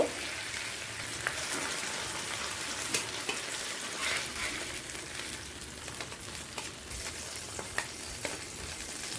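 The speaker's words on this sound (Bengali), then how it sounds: "অপরদিকে আমি চার পিস পাবদা মাছকে ভাজতে দিয়ে নিয়েছি" Four pieces of pabda fish frying in oil, a continuous soft crackling sizzle with scattered spits and pops, fairly quiet and steady with no voices.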